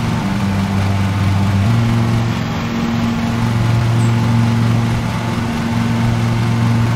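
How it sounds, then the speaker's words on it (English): Simulated lawn mower engine from the Lawn Mowing Simulator video game: a steady droning hum whose pitch shifts audibly as the mower's RPM changes when cutting into thicker, taller grass, heard close and continuous. "you guys can actually see the mower RPM fluctuating as we are going into a little bit thicker, taller grass as well"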